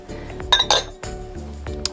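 Chopped pecans tip into a glass bowl with a quick cluster of bright clinks and rattles, followed by a softer settling clatter. Nothing else is heard.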